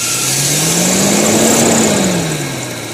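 A car engine idling with the air conditioning switched on, a loud, close, steady drone whose pitch rises slightly and then sags back down as the idle speed dips, with no voices.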